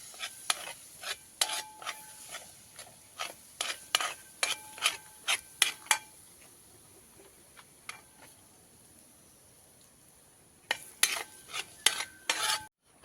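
A spoon scrapes and clinks against a pan or bowl while egg is mixed into a masala filling for puttu, a series of sharp rhythmic strokes in two bursts separated by a quiet pause, close and alone.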